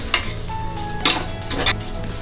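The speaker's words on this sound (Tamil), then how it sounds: "போட்டு இது எல்லாத்தையும் நல்லா இந்த எண்ணெயில் வதக்கலாம்" Biryani masala sizzling in hot oil while being stirred in a pot, with scraping and clinking spoon strokes over a steady frying hiss, for a homemade seeraga samba mutton biryani.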